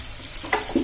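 Sliced onions hit hot oil in a pan with ginger and garlic, giving a short soft sizzle with a quick stirring scrape and a brighter crackle near the end.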